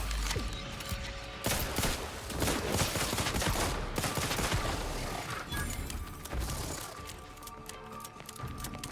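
Dense, sustained pistol gunfire in The Outer Worlds 2, with repeated sharp shots and crashing impacts running throughout amid a chaotic firefight, loud and near with little letup.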